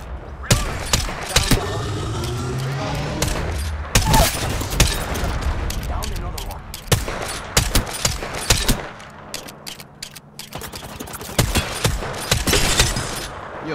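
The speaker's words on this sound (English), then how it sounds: "Got one here. Taking shots. Taking fire." Repeated shots from a 30-30 Repeater lever-action marksman rifle in the battle royale game Apex Legends, loud, close sharp reports in irregular bursts mixed with other distant gunfire across a busy firefight.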